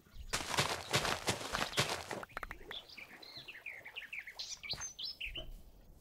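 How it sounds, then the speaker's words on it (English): Birds chirping near a wheat mill at the Citadel, a string of quick bright tweets and trills following several crunching footsteps, fairly close and clear. "Some really cool bird noises,"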